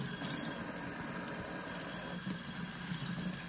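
Lukewarm water runs steadily from a tap into a sink, a constant close rushing splash with no voices.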